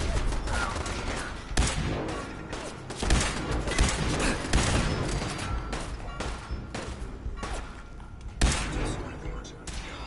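Rapid bursts of gunfire from the video game Fallout 4, dense and loud with sharp thumps standing out over a busy mix of game sounds.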